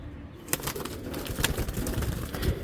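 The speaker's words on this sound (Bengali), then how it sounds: "এই যে এক জোড়া আর্মি জাতের কবুতর দিতেছে" Army breed pigeons at a Bangladeshi giribaz pigeon farm, cooing softly amid a busy, noisy background, with brief sharper sounds that may be flapping wings.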